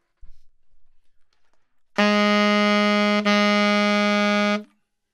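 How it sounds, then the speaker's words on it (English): A single sustained saxophone note, rich and steady, held for about three seconds after a brief low breath sound. "a full tone. And we call a full tone basically putting your full amount of air into the instrument."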